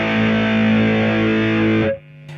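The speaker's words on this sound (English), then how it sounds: "We're on distortion at the moment." Heavily distorted electric guitar chord through the distortion setting of a TC Electronic Nova System guitar processor, a thick buzzing sustained tone ringing loud for about two seconds before being cut off abruptly.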